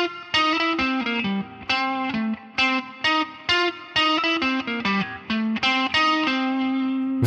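An electric guitar lick run through effects such as distortion and chorus, a quick sequence of bright, sustained notes played close and alone with short gaps between phrases.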